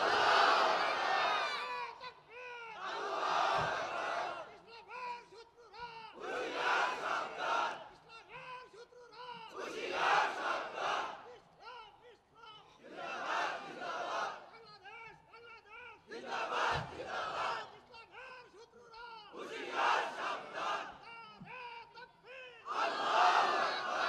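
A large crowd at an outdoor Bengali Islamic waz gathering roars Allahu Akbar takbir in repeated loud collective bursts, each swell rising and falling in a steady call-and-response rhythm.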